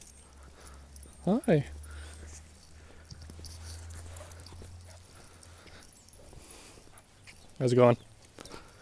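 Puppies give a few short high whimpers and yips, one burst early and another near the end, close by, while a person speaks a brief greeting between them.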